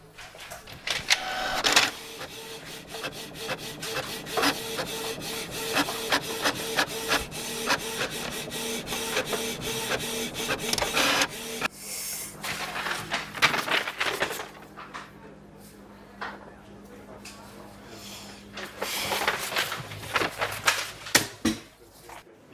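An office printer runs for about twenty seconds, a steady mechanical whirring and rasping as paper feeds through, with a brief pause and softer clicking near the end; no talking over it.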